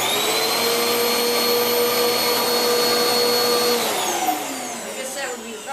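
A Panasonic Jet Force bagless upright vacuum cleaner with cyclonic technology runs with a steady loud motor whine close by, then the pitch drops and winds down near the end as it switches off.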